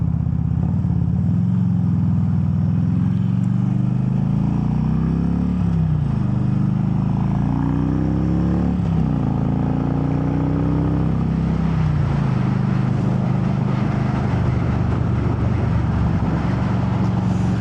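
A new Harley-Davidson Road King motorcycle engine idles steadily up close, a deep low rumble with slight pitch shifts as the throttle moves, running alone without talk.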